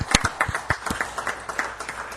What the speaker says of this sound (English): give a round of applause for doing a great job yesterday